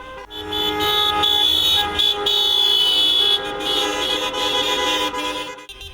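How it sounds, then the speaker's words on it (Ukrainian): Several car horns blare together in a long sustained chorus at a motorcade protest outside government buildings, loud and close, with brief dips before the honking tails off. "Біля владних структур водії унісонно сигналять."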